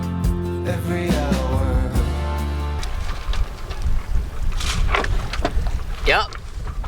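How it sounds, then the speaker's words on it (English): Wind rushes and buffets across a sailboat out at sea in the Bahamas, a rough, gusty roar after a few seconds of tonal music, loud and close to the microphone. "Yep, wind is blowing, and you can definitely tell by our dilapidated Bohemian courtesy flag."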